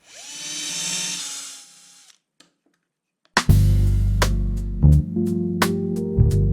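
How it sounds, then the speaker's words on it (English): A power drill bores into a wooden part, whining briefly, stopping, then restarting counterclockwise with a lower grinding drone and several sharp clicks as it bites, loud and close. "The drill rotates counterclockwise."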